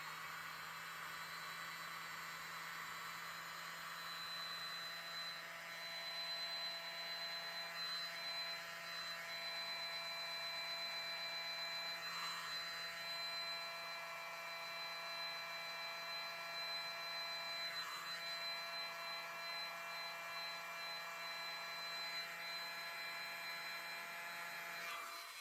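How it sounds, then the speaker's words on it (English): A small handheld mini blower runs steadily and close for a long stretch, a continuous airy whine pushing fluid acrylic paint across a poured canvas, with faint sweeps as the airflow shifts. "Use my mini blower"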